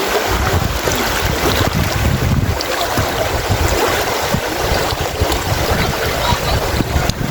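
A stream in San Fernando where people go to swim rushes loudly and continuously close to the microphone, a dense, unbroken wash of water noise with some wind buffeting.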